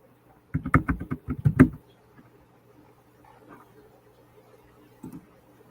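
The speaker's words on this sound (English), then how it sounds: "I can't type and talk at the same time." A quick run of close, crisp computer-keyboard clicks rattles out for about a second, followed by near silence and one faint tap later.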